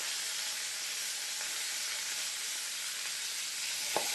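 Garlic and curry leaves fry in hot oil in a pan for a masala base, giving a dense, steady sizzle close up. A single soft tap sounds near the end.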